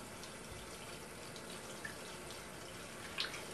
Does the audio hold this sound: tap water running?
yes